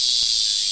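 A cicada high in a tree gives a steady, shrill, unbroken buzz, loud and close, with no voices.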